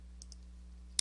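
Two quick mouse button clicks early on and a sharper click near the end, faint over a steady electrical hum, while working in Photoshop on a computer.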